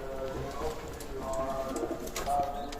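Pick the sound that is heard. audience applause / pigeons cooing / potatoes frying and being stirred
pigeons cooing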